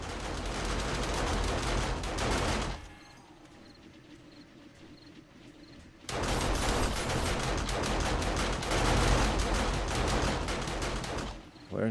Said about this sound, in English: Where's the gunfire coming from?